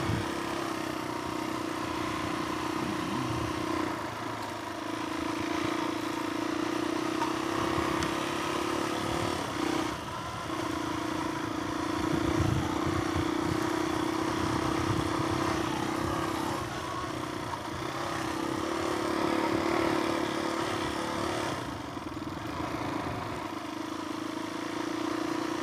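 A Suzuki DRZ400E big-bore motorcycle engine, rebuilt and fitted with an FCR 39 slant carburetor, runs steadily nearby with an even mid-pitched drone and mechanical clatter that swells slightly now and then over about twenty-five seconds.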